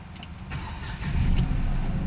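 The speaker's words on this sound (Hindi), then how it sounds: "अभी मैं जस्ट इसको क्रैंक करूँगा और क्रैंक करके चेक करूँगा।" A Nissan Magnite engine cranks and catches, settling into a steady idle that grows slightly louder, heard close with no talk.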